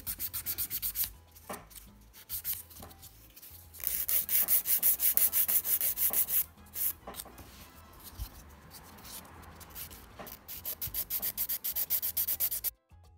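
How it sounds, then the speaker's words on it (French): An acrylic gel nail extension is filed with a hand nail file in repeated scratchy back-and-forth strokes, close and fairly loud, coming in bursts with brief pauses and no speech. "vous mettez votre lime bien parallèle et vous limez du coup les parallèles bien droits"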